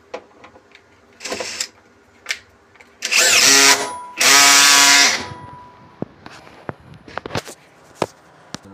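A power drill drives screws while a replacement motor is refitted to a Siemens iQ300 washing machine, with two loud whirring bursts of a few seconds each, a shorter one before them, and scattered clicks and knocks of handling around them.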